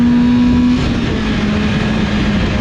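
Race car roaring at steady high revs during a 25-lap Friday night qualifier at Willamette Speedway, a loud continuous engine drone with a slight pitch shift as it runs through lap traffic.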